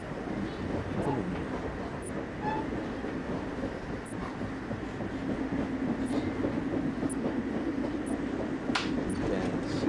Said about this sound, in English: this is a real long train.